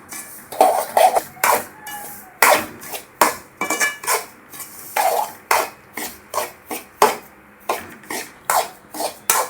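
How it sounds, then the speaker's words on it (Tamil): A spoon stirs and scrapes semolina roasting in ghee in a pan, making a steady series of close, rhythmic rasping strokes with short pauses between them and no talk. "ரவை இதில் சேர்த்து நல்லா செவக்க நல்லா வறுக்கலாங்க"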